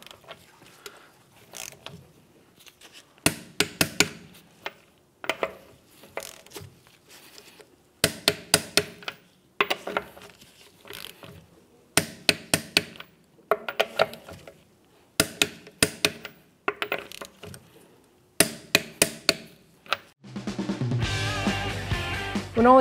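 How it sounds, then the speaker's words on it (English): A torque wrench ratchets and clicks in repeated short bursts as the rear brake caliper bolts on a 2011-2016 Hyundai Elantra are tightened to 70 foot-pounds in a crisscross pattern. Each cluster of crisp metallic clicks is followed by a pause, and a different sound takes over at the end. "Now we're going to torque these down to 70 foot-pounds."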